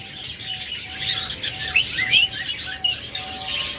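Breeding pairs of cage birds, budgerigars and lovebirds, keep up a lively stream of close tweets and chirps, with a faint flutter of wings now and then.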